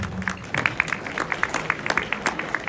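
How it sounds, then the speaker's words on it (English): A small business audience at a Chamber of Commerce keynote gives a sparse round of applause: a few scattered, faint claps ticking irregularly rather than a full ovation. "Give him a round of applause."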